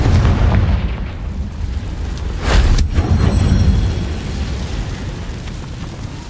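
A Confringo blasting spell explodes in Hogwarts Legacy, a loud booming burst with a rumbling low tail, peaking midway over continuous game ambience.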